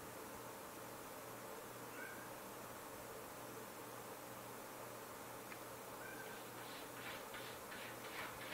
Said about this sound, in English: that's my crazy cat trying to get out of the bathroom because I locked him in there